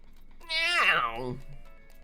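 A person imitates a cat's meow with a single drawn-out, wavering vocal mew that rises and then slides down, lasting under a second in an otherwise quiet setting.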